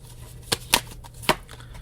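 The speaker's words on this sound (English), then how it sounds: "Let's grab all 10 cards now." Tarot cards handled and drawn from a deck, three crisp snapping flicks and light slides close by, spaced irregularly over a quiet background with no talk.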